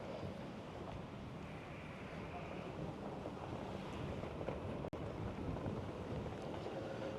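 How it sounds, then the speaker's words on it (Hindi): Wind blows steadily through a park in Jakarta on a sunny day, a continuous rushing buffeting the microphone, with one brief click partway through. "अभी जो हवा चल रही है"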